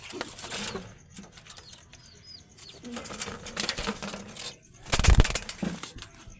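Pigeons gathering to be fed outdoors, with soft coos and chirps, fluttering wings, and a louder close flurry of flapping near the end.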